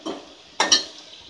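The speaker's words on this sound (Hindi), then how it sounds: "अब हम इस मसाले को तेल छूटे तक भून लेंगे।" Masala frying in oil in a pan for a Bombil fish curry gives a steady soft sizzle, broken by a couple of sharp metal spatula clinks and scrapes against the pan.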